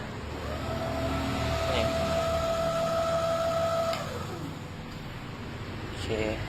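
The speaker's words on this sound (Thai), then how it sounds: "อันนี้ลองฟังดู เสียงมอเตอร์หมุนนะครับ นะผมผมบิดสุดเลยนะ" A kids' electric scooter motor spins at full throttle, giving a steady high whine that holds for several seconds, then slides down as it eases off, with a brief second rev at the end.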